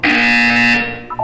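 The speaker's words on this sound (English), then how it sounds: "When you hear the buzzer, look up at the ceiling" A loud, steady electronic buzzer from the Portal 2 video game holds one sustained tone for most of the second, then cuts off into a brief quieter tail.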